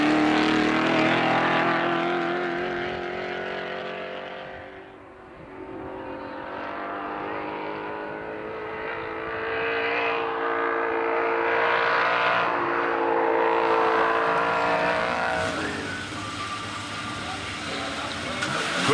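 A 1967 Porsche 911R racing up a hill climb course, its engine note rising and falling through gear changes as it approaches and passes, loud and sustained throughout.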